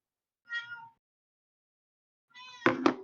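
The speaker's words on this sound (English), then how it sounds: "Who's meowing? That's my cat." A domestic cat meows twice, first a short, soft call, then after a pause a louder, more strained meow close by, with silence in between.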